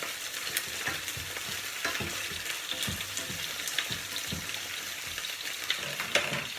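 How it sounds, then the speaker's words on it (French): Purple artichoke hearts cooking in a pan of water and oil, a continuous bubbling sizzle with repeated stirring knocks and scrapes, close and fairly loud, no voices. "je vais y ajouter un fond d'eau, afin que ça cuise correctement le cœur de votre artichaut."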